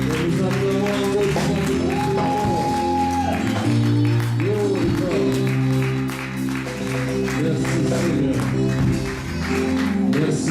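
A church congregation applauding and cheering during a worship service, sustained clapping mixed with voices and music throughout.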